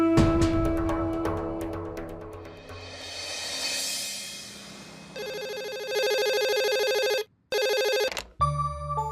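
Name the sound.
telephone ringing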